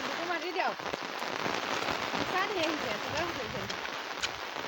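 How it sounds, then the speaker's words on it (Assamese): Heavy monsoon rain falls without a break during a flood and drums steadily on surfaces with a dense, even hiss, and voices can be heard faintly underneath. "পানী মানে আজি ৰাতিপুৱাৰ পৰা বৰষুণে দি আছে নন ষ্টপ"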